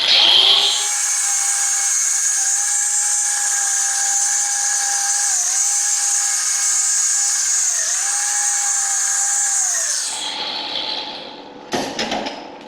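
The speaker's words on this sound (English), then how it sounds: "So I'm just going to go around this hose with my cutoff wheel" A cutoff wheel cuts around a fuel hose during an LT L83 fuel system install on a 1965 Pontiac Safari wagon 4x4. A loud, steady high whine runs for about ten seconds, then stops, followed by brief clanks.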